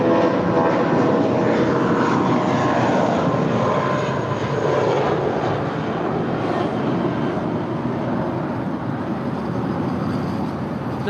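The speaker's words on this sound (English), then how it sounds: "Captain JC is now starting his taxi on down to the 25s" An airliner taxiing toward the 25 runways at LAX, its jet engines giving a steady, loud, broadband roar that holds throughout with no one talking.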